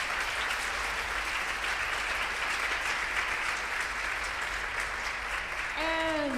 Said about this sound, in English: A little bit of round of applause for that amazing crew.